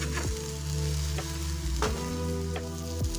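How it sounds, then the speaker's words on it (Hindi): A mixed vegetable Korean egg cutlet topped with a cheese slice fries in a pan, giving a loud, continuous sizzle with a few soft scraping taps from a utensil. "इसे 2 मिनट के लिए और फ्राई कर लेंगे ताकि हमारी दूसरी साइड भी अच्छे से पक जाए यानी कि फ्राई हो जाए।"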